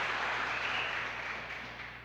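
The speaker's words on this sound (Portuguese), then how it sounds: "Você pode aplaudir o Senhor por isso?" A church congregation applauding, a steady, dense wash of many hands clapping together, moderately loud and fairly even, tapering slightly toward the end with no voices over it.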